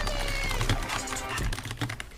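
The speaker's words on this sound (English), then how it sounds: "The fucking keyboard sounds!" A computer keyboard clatters with quick, uneven typing taps during a game stream, loud and close, with brief voice sounds mixed in.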